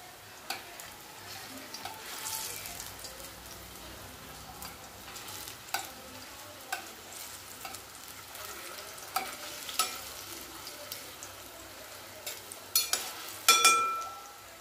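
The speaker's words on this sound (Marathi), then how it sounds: "कमी गॅसवर तळलं ना की छान असे मध्येपर्यंत कोफ्ते तळतात." Koftas frying in shallow oil over low heat for a pumpkin curry, giving a soft, steady sizzle with scattered crackles and pops, louder bursts near the end, and no talk.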